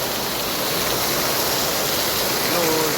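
Heavy thunderstorm rain pours down in a dense, loud, unbroken roar close by, a continuous wash of falling water with no gaps.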